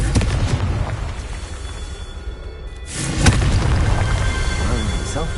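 A Confringo blasting spell detonating in Hogwarts Legacy, a sudden booming explosion with a sharp crack cutting through low game rumble, its crackling tail fading slowly; a voice speaks nearby.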